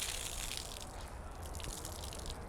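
Water drains from a wrung-out car wash mitt, a soft, continuous trickle and splash that holds steady and fairly quiet for a couple of seconds.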